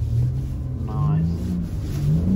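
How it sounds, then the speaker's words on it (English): A BMW M140i slides on a wet skid pan, understeering into a four-wheel slide, with a steady low engine drone and rumble throughout. Voices talk over it. "Lots of understeer and now four-wheel slide."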